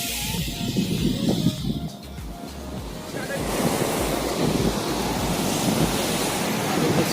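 Flooded Maniyari river rushing in spate near a submerged temple bridge: a steady loud broadband roar of churning water mixed with gusty wind buffeting the microphone, continuous throughout with no clear voices.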